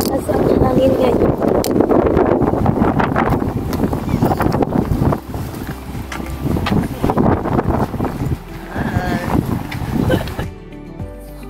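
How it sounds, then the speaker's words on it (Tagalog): Strong wind buffets the microphone outdoors in a town by a river bridge, a loud, continuous rumbling roar that surges in gusts, with voices partly buried beneath it. "Malakas ang hangin ngayon."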